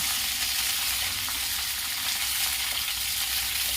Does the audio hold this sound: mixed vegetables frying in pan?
yes